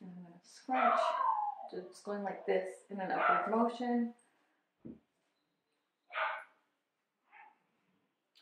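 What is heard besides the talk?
dog barking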